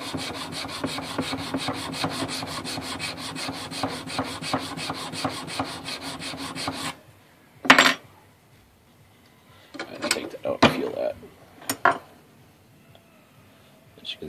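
A knife spine being sharpened, with rapid rhythmic rasping strokes for about seven seconds, then quiet with a few isolated scrapes and rubs, close up and without talk.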